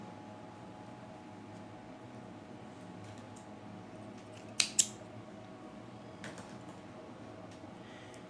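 Scissors snip leftover yarn from a crochet magic ring, two quick close cuts against a quiet background with faint handling noise afterward.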